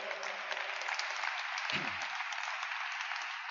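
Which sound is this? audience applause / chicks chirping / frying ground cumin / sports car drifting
audience applause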